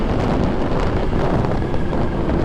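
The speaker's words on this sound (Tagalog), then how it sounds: "Lakas ang hangin." Strong wind buffets the microphone in a constant low rumbling roar, gusting unevenly throughout with no voices.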